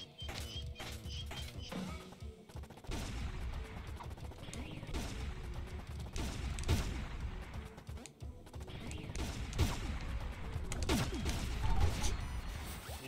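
Gunfire from a newly acquired gun in the video game Pizza Tower, rapid bursts of shots and clattering impacts running steadily throughout, loud and dense, with a voice talking over parts of it.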